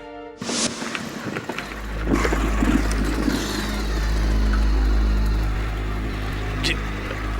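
A motorbike's engine starts and then revs at night on a road home, with a low steady drone that swells and eases over several seconds, fairly close and alone.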